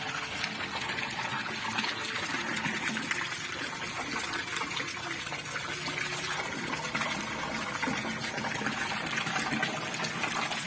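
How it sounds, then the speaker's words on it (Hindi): Tubewell at a farm encampment pumping water out to irrigate fields, a steady gushing rush of flowing water with a constant mechanical hum underneath, continuous and fairly close, no talking. "ये भी ऐसे ट्यूबवेल चलाते हैं, फिर पानी जाता है यहाँ पे।"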